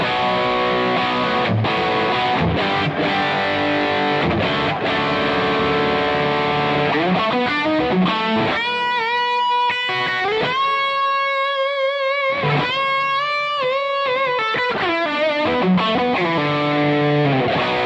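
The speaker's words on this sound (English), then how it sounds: "this is the sound you get from the Wonderland Overdrive" An electric guitar plays through an Amplified Nation Wonderland Overdrive V2 pedal set for high gain, giving thick, heavily distorted chords and sustained ringing notes that bend and shift, loud and alone throughout.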